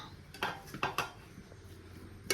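Spoon and metal pot clatter while prawn biryani masala is stirred, several sharp knocks and scrapes at uneven intervals, close by, with a low background hum.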